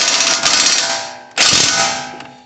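An impact wrench turns a camber bolt on a 2020 Subaru STI during a spring installation, giving two loud, close bursts of rapid mechanical rattling separated by a brief pause.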